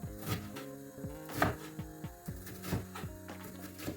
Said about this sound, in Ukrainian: ми чистимо і нарізаємо цибульку кубиками